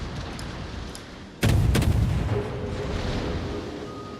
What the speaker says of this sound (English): torpedo hit on something